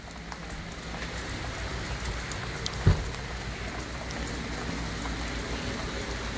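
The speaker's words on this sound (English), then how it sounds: "even though it's a bit rainy today" Rain falls steadily outside a historic house in the Cayman Islands, a soft, constant patter with one brief louder knock near the middle.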